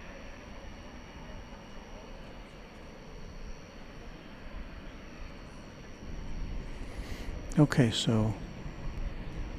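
A Qatar Airways airliner begins its takeoff roll at night at Dallas Fort Worth airport, a faint, distant jet roar building gradually under steady background noise, with someone speaking briefly near the end.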